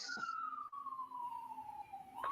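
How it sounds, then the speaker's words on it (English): An ambulance siren wails in one long, steady tone that slowly falls in pitch as it passes, fairly loud and clear over low street rumble, with no talking. "An ambulance."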